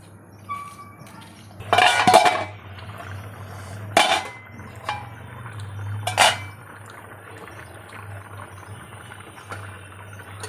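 Boiled potatoes tip into a pan of fried chilli and onion with a few bright clanks and clinks of metal and utensils, spaced a couple of seconds apart over a low steady hum, with no talking.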